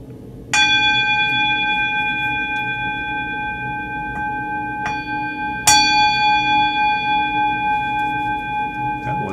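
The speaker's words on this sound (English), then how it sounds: "We'll ring a gong to invite all beings to our practice." A gong is struck twice to open a meditation practice. Each clear, ringing stroke swells and then hangs in a long, shimmering decay, loud and close, with a softer tap between the two strokes and no talk.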